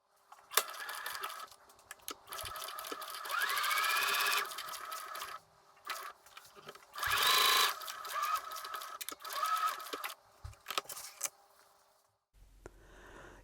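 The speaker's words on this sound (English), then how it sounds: "Sew the short ends of each sleeve cuff with a 5/8 of an inch seam." A sewing machine stitches the short ends of a dress sleeve cuff with a 5/8 inch seam, running in several bursts of steady whirring separated by brief pauses, close and fairly loud.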